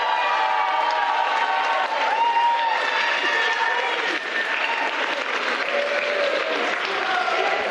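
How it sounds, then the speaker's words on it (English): Wedding guests break into sustained, loud applause after a speech, dense clapping with some crowd murmur and faint cheering throughout. "So a huge round of applause."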